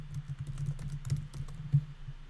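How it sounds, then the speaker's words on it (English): Rapid, irregular keystrokes on a computer keyboard as a password is typed, close and fairly quiet, with a few louder taps and no talking. "you need to enter some sort of password that you're going to remember"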